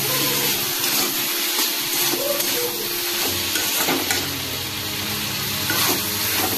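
Spices with ginger paste and cumin powder frying in a pan for a vegetarian khichdi, a dense continuous sizzle with soft stirring scrapes, close and steady, no one speaking.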